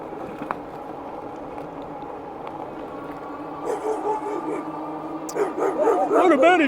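Small dogs yip, whimper and bark excitedly close by, growing louder and busier toward the end, with someone talking over them.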